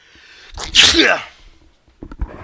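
A single loud, close sneeze with a sharp inhaled build-up and explosive burst, followed by faint breathy aftersound and a little talk.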